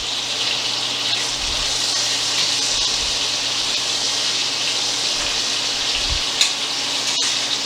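Short ribs brown in a hot pan with a loud, steady sizzle and hiss that holds evenly throughout, close up, with no talk.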